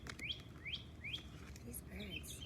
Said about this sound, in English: We have baby birds.